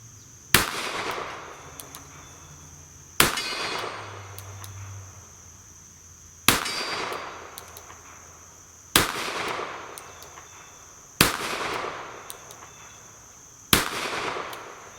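Six sharp revolver shots from a Kimber K6s at a pistol qualification range, fired at targets with steady gaps of roughly two to three seconds, each a loud crack followed by a short ringing decay.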